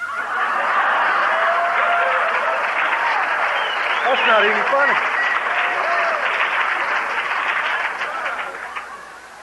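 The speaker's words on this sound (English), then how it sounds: "Only the Al-Anons were clapping" Audience at an Al-Anon recovery convention, the Cornhusker Roundup in Omaha, claps and laughs steadily throughout, with a voice speaking over the crowd noise.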